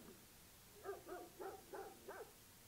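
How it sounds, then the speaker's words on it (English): A dog barks five times in an even rhythm, the barks short and somewhat muffled, as if coming from a distance. "that's just the dog. He's barking at something."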